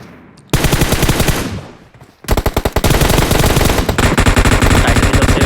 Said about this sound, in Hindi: अच्छा कवर फायर